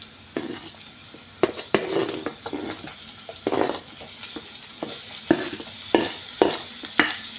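Tomato fries with ginger and garlic for methi chicken, a soft sizzle under repeated stirring, with sharp spoon scrapes and taps against the pan coming every second or so.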